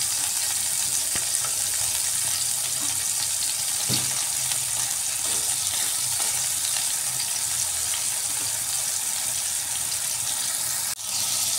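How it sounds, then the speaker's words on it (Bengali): Potatoes frying in oil in a wok used for soybeans, a steady broadband sizzle with a few stirring clatters, close and continuous, no talking. "এবার এই তেলের মধ্যে আমি আলুগুলো ভেজে নিচ্ছি।"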